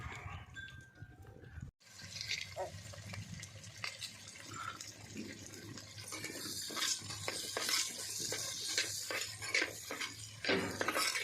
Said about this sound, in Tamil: அதுக்குள்ளே போய் பாத்திரம்ல கழுவிட்டேன்